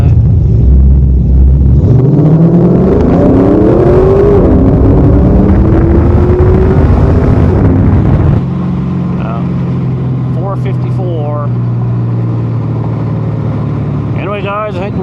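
A 2002 Chevrolet Camaro SS with 3.90 gears accelerating hard on a hot-day 0-60 run, its engine note rising through the rev range, then dropping to a steadier drone after a shift, with brief talk near the end.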